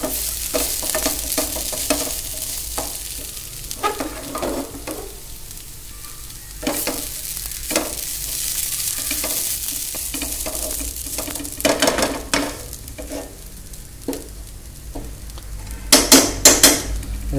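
Masala paste being stirred and fried in a pot, with beans about to go in: repeated scraping stirs and clinks of a spoon against metal over a steady close sizzle, with a brief burst of sharper clatter near the end.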